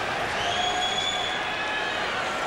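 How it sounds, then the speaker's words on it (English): Hockey arena crowd at a Bruins–Oilers NHL game letting out a sustained, steady ooh-and-ahh murmur, a broad far-off wash of many voices with no single voice standing out. "the crowd started oohing and ahhing"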